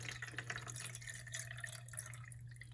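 Water runs steadily into the tank of a Kangen K8 water ionizer, a continuous close splashing fill with a low electrical hum beneath it.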